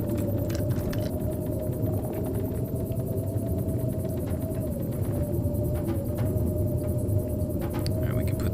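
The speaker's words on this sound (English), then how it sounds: "washing machine. It is incredibly noisy." Noisy washing machine running in the background: a steady, loud low rumble and drone that holds unchanged throughout, with faint clicks and taps on top and no speech.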